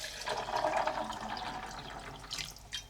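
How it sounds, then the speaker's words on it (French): Water poured into a blender holding almonds, a soft continuous splashing and trickling close by, strongest early then settling into a lighter pour with a few brief splashes near the end. "On rajoute de l'eau."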